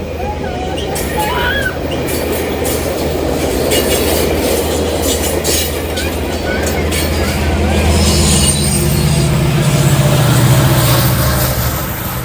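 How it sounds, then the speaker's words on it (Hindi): A train passes nearby, its steady low rumble and rolling clatter of wagons filling the whole stretch and swelling slightly louder toward the end, with a faint voice now and then. "ट्रेन जा रही है।"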